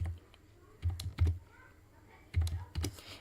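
Keys clack on a computer keyboard while a captcha is entered on an online admission registration form, in two short clusters of close, crisp keystrokes separated by a quiet pause.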